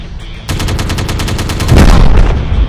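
Rapid automatic gunfire rattles in a Moto Robot Transformation game, a loud, close burst of evenly spaced shots that starts abruptly and runs about two seconds with a heavier boom partway through.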